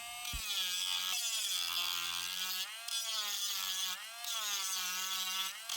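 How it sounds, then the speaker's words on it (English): A Dremel rotary tool with a sanding bit whines steadily while sanding a Fender Jazzmaster guitar nut, its pitch dipping and rising as it bites into the material, with brief pauses. "I then use my Dremel with a sanding bit to hog away most of the material"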